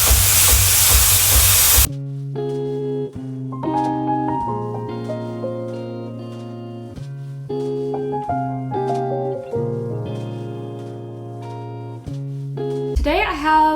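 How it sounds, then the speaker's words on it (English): An espresso machine steam wand is purged in a loud, close hiss lasting about two seconds, then gives way to a melodic tonal passage. "always clear your steam wand."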